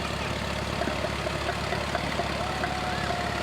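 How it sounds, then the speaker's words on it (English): An Allis-Chalmers tractor engine rumbles low and steady as the tractor rolls past in a Fourth of July parade, a faint continuous idle-like chug under broad outdoor noise. "Nice Alice Chalmers tractor."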